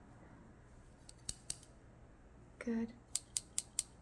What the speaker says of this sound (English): It's going to be like a slight clicking sound